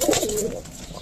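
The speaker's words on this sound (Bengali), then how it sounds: "আমার পছন্দের একটা নর কবুতর ঘরের বাচ্চা" A male pigeon gives a short, close, fairly loud coo with a soft throaty rise and fall, heard alone without any talking.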